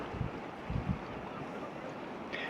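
Wind and rough, stormy sea waves at an Italian port: a continuous gusty rumble with low buffeting thumps against the microphone, surf noise washing steadily beneath, heard alone without speech.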